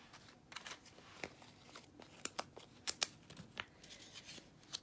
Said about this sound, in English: So now I'm going to cut these.